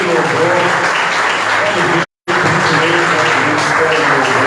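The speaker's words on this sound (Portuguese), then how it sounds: "Vamos aplaudir ao Senhor nosso Deus." Loud applause from a church congregation fills the space, broken by a brief moment of silence before the clapping resumes just as strongly.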